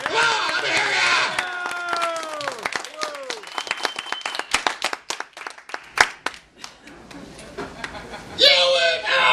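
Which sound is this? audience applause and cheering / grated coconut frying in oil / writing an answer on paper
audience applause and cheering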